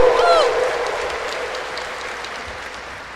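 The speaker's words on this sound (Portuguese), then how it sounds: "Uma salva de palmas para Jesus." Church congregation at an evening Sunday Mass breaks into applause for Jesus; a broad wash of clapping that starts strong and gradually tapers over a few seconds, with no voices on top.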